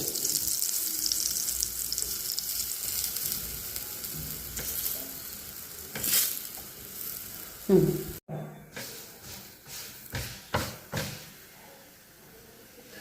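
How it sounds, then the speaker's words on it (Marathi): A flatbread roasts with ghee on a hot griddle, giving a soft continuous sizzle, and toward the end come several sharp knocks and scrapes. A faint voice is briefly present. "तूप लावून भाजायचं हे."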